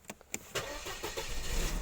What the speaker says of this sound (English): So that's how a W210 starts.